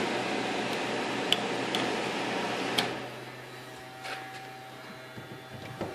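A fan, pump and blower on a water gas reaction setup run on high as a broad steady whoosh and hum, which drops off about halfway through, leaving a quieter hum with scattered ticks and small clicks, with no talking.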